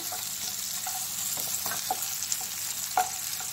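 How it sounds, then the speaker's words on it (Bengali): Cashews, garlic, ginger and tomato fry in a pan with a continuous close sizzle, broken by several light scrapes and taps of a stirring utensil. "কাজু বাদাম আর রসুন আছে কাজু বাদাম আছে টমেটো, এগুলো হালকা সতে করে নিচ্ছি"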